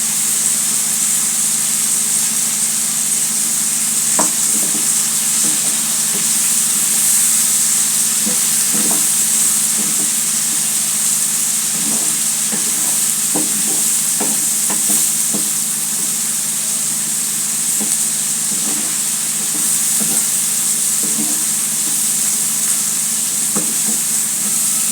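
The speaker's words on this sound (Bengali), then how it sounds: "ভালো করে নেড়ে নিতে হবে।" Dried ichha shutki and teasel gourd are stirred in a frying pan, a steady hiss of frying under a constant burner drone, with irregular spatula scrapes and taps scattered throughout and no speech.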